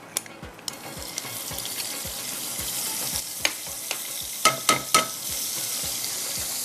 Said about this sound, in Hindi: इसके अंदर जाएगा ये बटर 50 ग्राम, 50 ग्राम मक्खन डाल देते हैं।